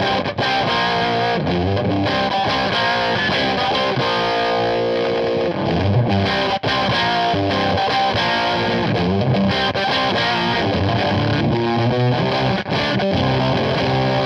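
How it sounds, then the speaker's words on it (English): Electric guitar played through a Nexi Industries regular distortion drive pedal, loud, saturated and sustained, with chords and riffs ringing continuously and no talk. "it's the regular distortion."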